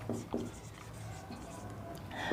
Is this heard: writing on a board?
yes